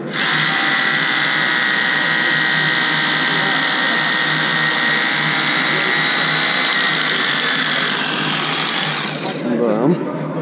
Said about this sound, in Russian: Можно сверлить дальше, пока не заклинило.